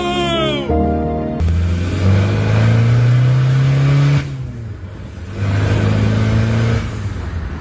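A big-turbo VW PD TDI diesel car accelerates hard, its engine note climbing steadily through long pulls with a brief gear change between, loud and close, while excited voices shout over it.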